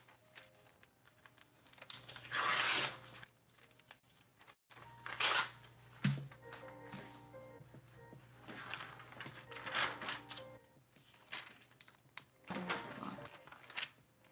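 Paper tears for an art journal in several short, rough ripping bursts spread across the stretch, close by, over a faint low hum with quiet pauses between.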